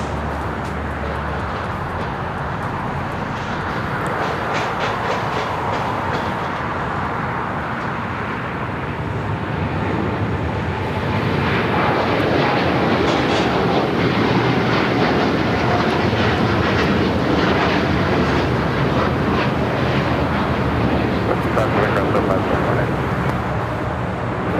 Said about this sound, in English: how about a heavy Dreamliner taking off?